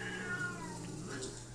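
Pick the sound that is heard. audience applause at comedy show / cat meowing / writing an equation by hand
cat meowing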